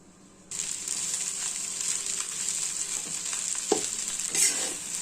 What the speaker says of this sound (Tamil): அடுப்பை ஸ்லோ ஃப்ளேமில் வச்சு பொறுமையாக கிளறுங்க